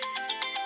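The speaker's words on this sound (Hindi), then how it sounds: "सर आपके फोन के साथ से कॉल आ रहा है, स्क्रीन वाइब्रेट हो रही है।" A phone rings with an incoming call, a bright repeating electronic ringtone pulsing several times in quick succession, close and fairly quiet, with no one talking.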